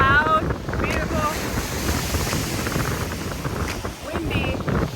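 Strong, cold wind buffets the microphone in a steady low roar at a ghost town in Michigan's Upper Peninsula, with brief voices in the background.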